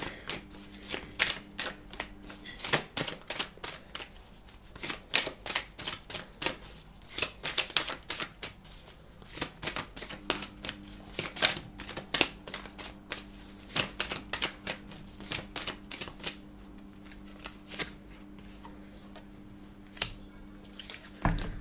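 Tarot cards being shuffled and drawn by hand, a steady run of soft riffling flicks and taps close by, with brief pauses and no talking.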